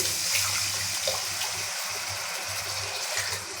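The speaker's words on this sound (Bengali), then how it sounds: "মশলা ধোয়া পানি দিয়ে দিলাম।" Water used to rinse the spice bowl poured into a pan of fried spices in oil, a steady rushing gush with low rumbling bubbling, close and continuous for several seconds.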